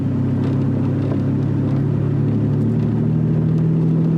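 A Lamborghini Diablo SV idles while warming up, a loud, steady low engine rumble with a constant drone that holds close and even throughout, no voices.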